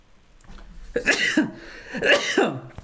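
A person's sneeze, given as two sharp, close bursts of breath about a second apart, loud and near with no talk around them.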